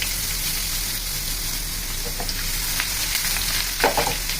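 Crushed garlic frying in hot oil for a tempering for mango pickle, a dense close sizzle that runs steadily with a few light clinks and stirring sounds near the end, no speech.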